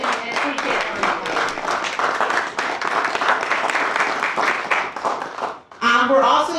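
A business breakfast crowd at the Farmington Club claps in a steady, dense round of applause lasting several seconds, then a voice speaks over the last of it.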